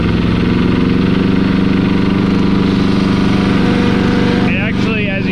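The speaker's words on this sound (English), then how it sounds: "And if I rev it up, it doesn't really do much" A Kubota T1600 diesel lawn tractor engine runs with a loud, steady, throbbing drone close by, barely rising when revved, while someone talks over it.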